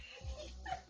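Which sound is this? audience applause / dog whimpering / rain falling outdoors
dog whimpering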